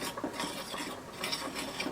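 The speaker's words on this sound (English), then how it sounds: "I'm going to mix the dry ingredients together" Dry ingredients for potato balls, seasoned with black pepper, stirred together in a bowl, giving a continuous soft scraping and rustling with faint clinks of utensil on the dish, close and steady with no talk.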